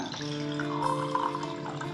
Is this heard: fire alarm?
no